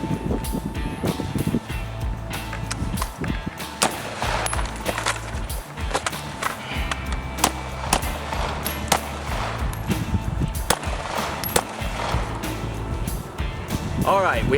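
Rapid AR-15 rifle shots fired at multiple targets during combat shooting practice, with loud sharp cracks in quick irregular bursts over a noisy outdoor background.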